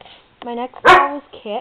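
A pet dog barks in a loud burst indoors between stretches of someone talking.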